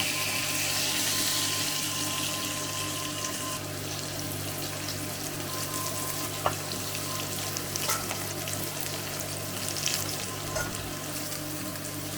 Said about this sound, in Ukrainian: Перша партія рибки підсмажилася, викладаємо її на блюдо і підсмажимо другу партію рибки.